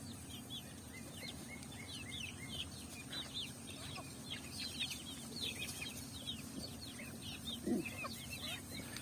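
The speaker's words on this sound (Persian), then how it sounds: "اردکا." A flock of ducks crowds around pieces of watermelon in a rural village yard, giving a dense, continuous chatter of overlapping quacks and peeps. The calls stay close and steady, with a low rumble of movement beneath and no voices.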